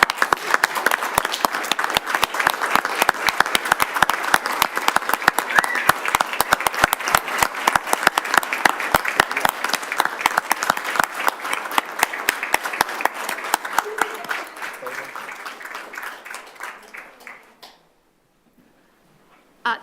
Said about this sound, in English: all of these young people deserve a standing ovation